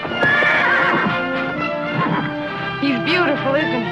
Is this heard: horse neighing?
yes